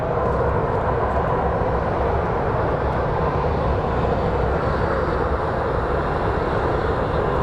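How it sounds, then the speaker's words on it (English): Airplane engines roar steadily at Phoenix Sky Harbor International Airport, a loud continuous broadband rumble with no break and no one talking. "Lots and lots of planes coming."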